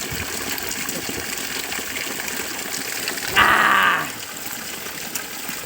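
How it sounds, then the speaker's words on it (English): Clean, pure natural water flows and splashes in a brief, louder burst of a second or so over a steady outdoor background hiss, with no talk. "I'm going to drink a very clean, pure, natural water."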